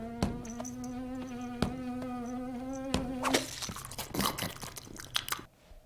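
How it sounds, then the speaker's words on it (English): A fly buzzes in a Scooby-Doo cartoon movie, a steady droning whine that stops abruptly, followed by a burst of crunching and chewing noises, all close and without speech. "Did Scooby just eat a fly like a frog?"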